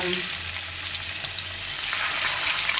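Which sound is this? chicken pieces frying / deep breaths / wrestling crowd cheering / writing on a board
chicken pieces frying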